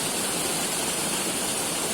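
Stream flowing in Güneysu, a continuous broadband rush of water at steady loudness, close and unbroken, with no voices over it.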